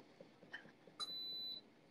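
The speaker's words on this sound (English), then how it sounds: "That was our alarm for the ribs in the quick cooker." Electronic timer alarm on a quick cooker (pressure cooker) signalling BBQ ribs are done: a brief bright beep cluster followed by a single sustained high tone lasting about half a second, faint in a quiet kitchen.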